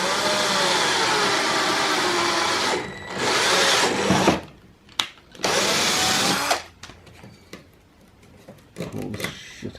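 A power drill bores through a car's side skirt while fitting a FlowDesigns V2 kit to a Spec R, whining loudly in several close bursts with short pauses and a few clicks between runs.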